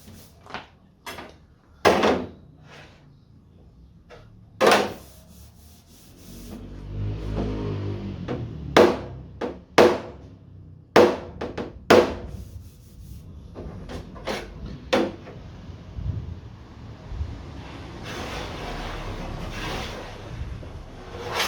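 A hammer knocks down a high spot on the steel boot lid of a Ford Escort II, giving sharp, close metallic taps spaced irregularly, some in quick pairs, between quieter rubbing and handling noises.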